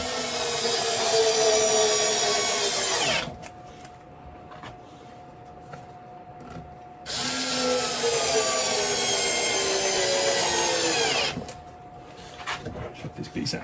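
A power drill drives screws into a wooden baseboard for a model railway, two sustained whirring bursts a few seconds each with quieter handling noise between, close by.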